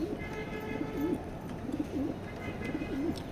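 A racing pigeon in a loft coos softly in three repeated rolling phrases over a low steady background hum.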